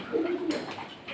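Pigeons in a breeding loft give a single short, low coo close by, with a faint rustle after it.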